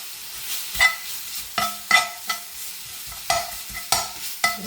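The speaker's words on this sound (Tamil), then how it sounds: "இருக்கிற எண்ணெயில நான் வதங்க விட போகிறேன்." Food sautés in oil in a pan for French tacos. A spoon scrapes and stirs in regular strokes over a soft, steady sizzle, close up with no talking.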